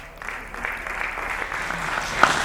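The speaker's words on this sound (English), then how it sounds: "clap for me now" Applause at a comedy show in Lagos, a steady wash of clapping from the audience for a couple of seconds under a faint voice.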